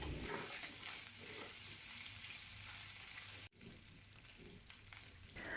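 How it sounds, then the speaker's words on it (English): Pork stir-frying in oil in a pan for Taiwanese braised pork rice, a steady close sizzle and crackle with stirring scrapes, a brief break midway, then the frying hiss resumes. "as you continue stir-frying the pork, the liquid will eventually evaporate and only the oil remains."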